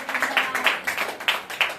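A congregation claps at a live Hindi church prayer service, a short, moderately faint burst of scattered hand claps with a loose, uneven rhythm.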